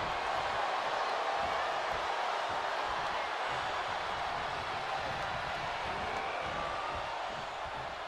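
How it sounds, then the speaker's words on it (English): A wrestling arena crowd roars in a steady, loud wash of cheering, a constant broad noise that never lets up across the whole stretch. "The sound of this crowd is deafening, and he's asking for more."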